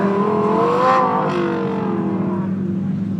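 A tricolor-liveried Ferrari, 0–62 mph in 3 seconds, accelerates on the Brands Hatch circuit at an Italian car festival, its engine a loud, sustained rising and falling howl with a passing swell.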